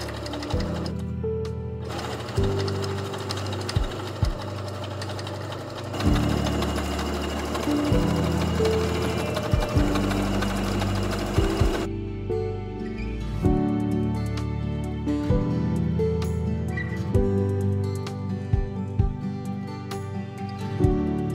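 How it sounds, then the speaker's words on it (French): A sewing machine stitches French seams on a kimono, its steady rapid mechanical whirring running continuously and close, with brief pauses and changes in pace between stitching runs. "je vais continuer avec les coutures anglaises de mon kimono ainsi que mes poches et ma ceinture"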